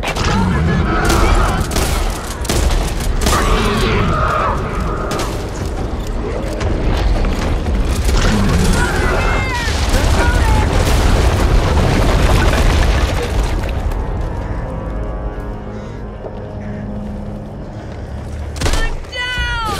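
Bombs and explosions going off in the zombie shooter Back 4 Blood, a run of loud booming blasts mixed with rattling gunfire and game effects, with voices talking over the action.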